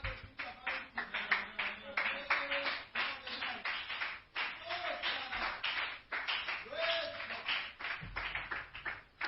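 A church congregation claps and cheers, with ragged continuous applause mixed with voices calling out throughout.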